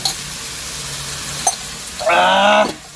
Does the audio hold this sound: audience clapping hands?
no